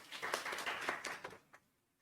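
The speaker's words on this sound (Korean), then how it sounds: "박수 부탁드립니다" Applause from a seminar audience at an online MICE industry roundtable in Jeju, a brief burst of clapping lasting about a second and a half, then thinning into a few scattered claps before fading out.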